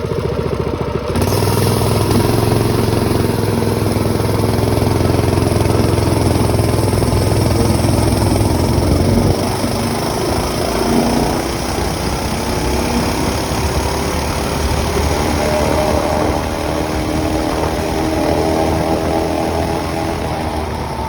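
A Harbor Freight Predator 212 small engine with its governor bypassed runs loudly and steadily, its drone shifting and roughening about halfway through as the speed changes.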